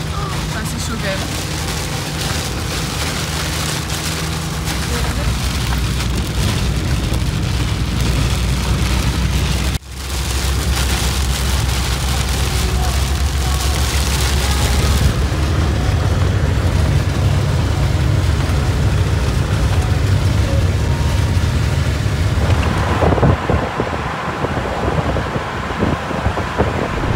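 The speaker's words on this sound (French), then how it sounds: "il pleut tellement qu'on est en train de se prendre toute l'eau dans le tête" Heavy rain pours onto a vehicle driving through Nigeria, a loud, constant wash of noise mixed with engine rumble and wind that barely changes throughout, with a voice speaking over it at moments.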